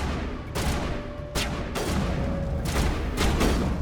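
Sci-fi rifle fire in a Mass Effect firefight: loud, rapid bursts of shots crackle throughout, with sharp peaks roughly every second over a dense, continuous din.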